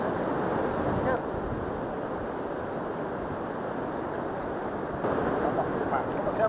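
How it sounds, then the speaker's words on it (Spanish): A waterfall on the Quequén river gives a steady broadband rush of falling water, loud and constant with some wind noise on the microphone and a slight rise in level near the end. "¿Cómo se llama esta cascada aquí?"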